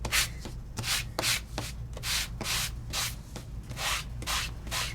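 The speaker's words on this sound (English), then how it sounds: "And you can see I'm doing a nice job in sanding, and yet it's not harming my paper." Inked paper is sanded by hand to bring up a highlight, making close, rhythmic rasping strokes that repeat steadily at a brisk pace.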